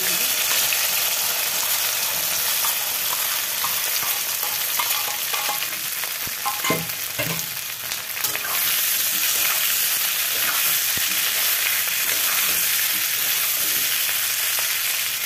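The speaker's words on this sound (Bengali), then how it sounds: "আলুগুলো একটু লাল করে ভাজা হোক।" Potatoes and chilies fry in a pan with a steady, loud sizzling hiss. Occasional clinks and scrapes of stirring break through near the middle.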